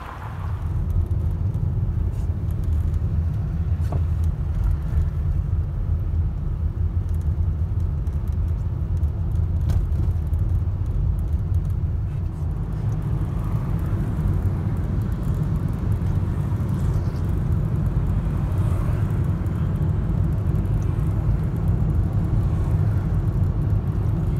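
A car driving on a road on the way to Ufa gives a steady, continuous low rumble of engine and road noise inside the cabin throughout, with no talk.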